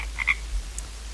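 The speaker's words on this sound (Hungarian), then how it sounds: "Édesen kuruttyolnak." Frogs croak in a short, high, clear chirping burst over a steady low hum, with one faint call after it and no voices.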